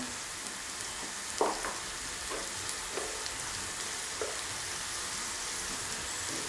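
Spice powders, including black pepper and garam masala for a prawn roast, fry quietly in a pan, a soft continuous sizzle with a few brief scraping stirs of the spoon.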